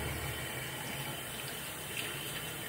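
Tap water runs steadily into a bathroom sink as a young child washes hands after using the toilet, a continuous close hiss with no talking.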